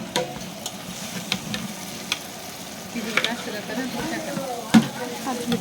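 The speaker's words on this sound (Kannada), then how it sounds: "ಇವಾಗ ಕೊತ್ತಂಬರಿ ಪುದೀನ ಆ್ಯಡ್ ಮಾಡ್ತಾಯಿದ್ದೀವಿ." Coriander and mint leaves go into a biryani cooking at a farmhouse, bringing a soft, steady sizzle with scattered scrapes and clinks of stirring, and one sharper knock near the end.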